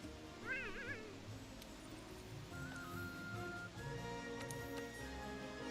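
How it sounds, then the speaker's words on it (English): A Palico cat companion in Monster Hunter World: Iceborne gives a short, clear meow near the start, followed by a softer mewing call, set over steady game music and ambience. "As for a cat over here."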